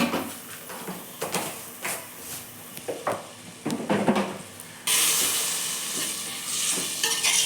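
Garam masala and chili powder are sautéed in a pan for biryani. Stirring strokes scrape at first, then a loud, steady frying hiss takes over.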